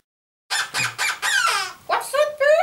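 A person imitates an Angry Birds bird in a puppet show, giving a quick run of sharp, nasal squawks and rising cries, close and loud, after a moment of silence.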